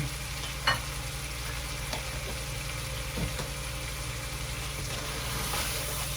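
Butter or margarine sizzling in a pan for chicken liver crispy sisig, a steady low frying hiss with a few brief clinks and stirring sounds, no talking.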